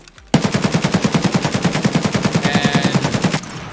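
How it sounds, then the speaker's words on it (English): Automatic fire from an AKM rifle in Escape from Tarkov while strafing, a rapid, steady burst of about three seconds of loud, evenly spaced shots with no talk. "Let's try shooting at Tarkov while strafing now"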